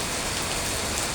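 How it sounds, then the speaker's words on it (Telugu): Heavy rain pouring down steadily, a dense, even hiss of drops beating on surfaces, loud and continuous with no voices. "చాలా భయంకరంగా కురుస్తుందండి వర్షం"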